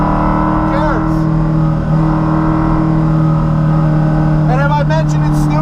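A Coyote V8-swapped Porsche Cayman making 425 wheel horsepower roars loudly and steadily up close, the engine note rising and dropping through quick gear shifts with brief rev blips.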